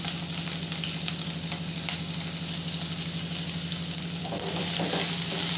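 Grated carrot and capsicum with chopped onion fry loudly in a pan for appam, giving a dense constant sizzle with a few scraping stirs near the end.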